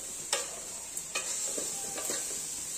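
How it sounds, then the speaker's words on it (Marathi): A spoon stirs coconut burfi mixture with melting sugar in a pan, giving a few soft scrapes and taps over a steady gentle sizzle, close and quiet, with no voices. "आता हे असं ढवळत राहायला पाहिजे आणि त्याच्यातनं ते साखर मेल्ट होते आणि सारखा गोळा होऊन येतो।"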